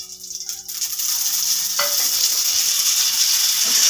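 Mustard seeds dropped into about two spoons of hot oil burst into a loud, steady sizzle that starts at once and holds bright and crackling, close by, with no speech.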